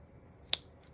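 Scissors make a single quick, sharp snip while cutting paper during a circus-themed pocket and tag craft. The snip is brief and close against a quiet room.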